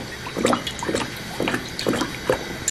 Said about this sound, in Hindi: तो इसमें हम एक कप के करीब ऑयल डालेंगे।